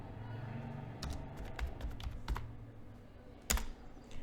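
A name being typed on a computer keyboard, a quiet run of scattered key taps with a sharper keystroke near the end, close by and with no talk.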